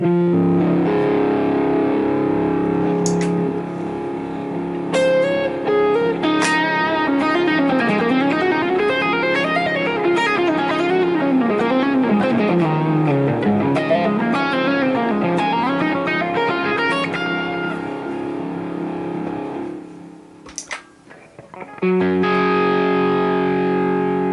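An ambient electric guitar through a Line 6 Pod GO dual delay preset placed before delay and reverb, with heavy delay, notes repeating and smearing into a washy, echoing wall of sound that briefly drops out before resuming.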